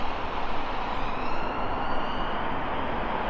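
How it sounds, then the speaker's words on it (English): A loud, wailing ambulance siren dominates near Trent Bridge in Nottingham, sweeping steadily up and down over rumbling traffic noise, close by and continuous. "Oh no, that's an ambulance."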